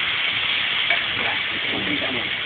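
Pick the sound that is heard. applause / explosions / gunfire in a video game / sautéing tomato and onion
sautéing tomato and onion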